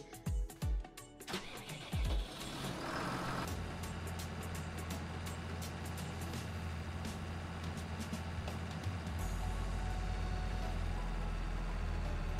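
A tractor engine from the Farming Simulator 20 game hauls a trolley loaded with potatoes, a steady mid-range drone that starts with a few short bursts, settles into a continuous loud run and swells slightly louder near the end.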